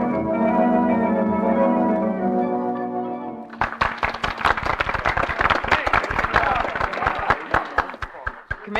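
Applause from a Punch and Judy show audience with a commissioner among them, a sharp burst of many quick claps that breaks in after a sustained organ-like musical tone and carries on loudly to the end.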